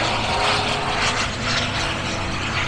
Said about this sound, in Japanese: おお飛行機